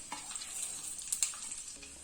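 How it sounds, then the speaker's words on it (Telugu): Spices tempering in hot ghee in a kadai give a faint, steady sizzle with a few sharp pops and crackles near the middle, with no voices. "ఇప్పుడు పోపు దినుసులు వేసుకునేస్తాము."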